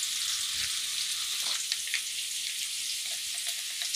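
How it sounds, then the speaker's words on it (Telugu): Green chillies and carrots fry steadily in a pan, giving a continuous close sizzle with faint stirring scrapes along the way; no one speaks. "పచ్చిమిర్చి క్యారెట్ అన్ని వేసుకొని బాగా ఫ్రై చేసుకున్నాము"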